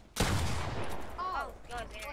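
A rocket launcher fires in Fortnite Battle Royale during a two-versus-one playground match, a sudden loud blast followed by a rumbling tail, with a player's voice faintly underneath.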